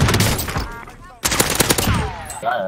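Rapid automatic gunfire bursts from the video game Call of Duty Warzone come in two dense loud volleys split by a brief pause, with a voice talking under the shots.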